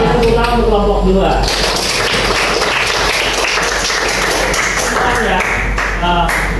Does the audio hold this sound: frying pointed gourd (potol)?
no